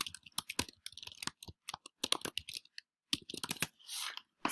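Rapid bursts of computer keyboard typing and mouse clicks while building a Prezi presentation, close and crisp in uneven clusters with short pauses, no voices.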